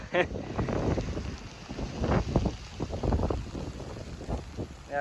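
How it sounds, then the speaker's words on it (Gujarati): Strong storm wind buffets the microphone in gusty, uneven bursts during heavy rain, roaring close and loud throughout with a voice speaking over it. "જો આપણી ફરતી પવનની હિલોરા મારે છે"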